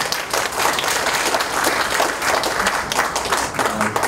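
Audience applause at a Pyeongtaek mayoral candidate debate, a dense, continuous burst of many hands clapping at close range, loud and even for a few seconds.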